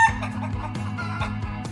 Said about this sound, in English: This is a hen. Hens lay eggs too.